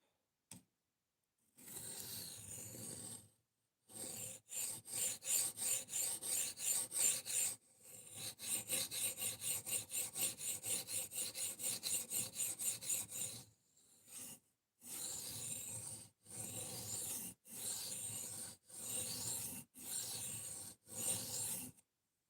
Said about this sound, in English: let me just give it a micro bevel and then I don't have to sharpen as much